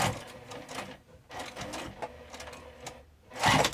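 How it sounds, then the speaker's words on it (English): A sewing machine stitches across a crossbody bag strap in short, close bursts of rapid mechanical chattering, with brief pauses between runs and a louder burst at the end. "Now I'm just going to stitch across"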